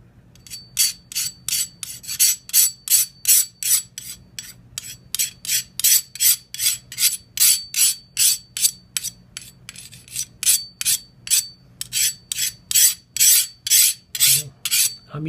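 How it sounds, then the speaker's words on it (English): Knife blade drawn repeatedly through a SharpensBest sharpener, a steady run of rasping strokes, close and loud, around two per second, alone with no talk. "I'm either dulling the living shit out of this blade or I'm sharpening it"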